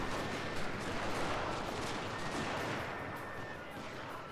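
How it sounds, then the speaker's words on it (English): Cannon bombardment in Total War: Shogun 2, a dense rolling barrage of booming shots and crackling gunfire that stays loud and continuous, thinning slightly toward the end. "I think that we had 1 round hit him with this bombardment."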